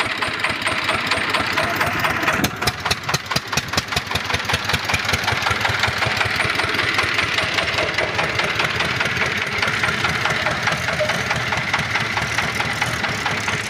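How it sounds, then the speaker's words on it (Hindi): A machine van engine runs steadily and loudly throughout on a rough road, with a rapid, rattling knock pulsing through the low rumble and no talk over it. "गाड़ी का इंजन क्या हुआ?"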